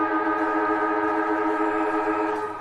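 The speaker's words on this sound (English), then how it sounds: "So the siren sounds to get us underway here." Siren starting an Australian football match at an NTFL Men's Premier League game, a loud, steady, sustained wailing tone holding level throughout, heard alone without commentary.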